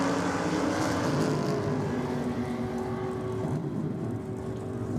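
Top Sportsman Chevy Camaro on a drag strip run, a loud sustained engine roar holding steady with a hint of pedalling toward the end, broadband and close-miked with no talk over it.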